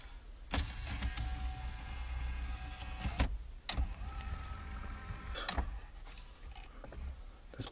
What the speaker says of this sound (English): the face of it motorizes in when you turn the ignition off